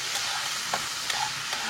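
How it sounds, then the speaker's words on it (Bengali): Cut shrimp seasoned with salt and turmeric sizzle steadily in hot oil in a pan, a continuous close frying hiss broken by a few soft clinks of stirring. "দিয়ে চিংড়ি মাছটাকে একটু ভেজে নেব"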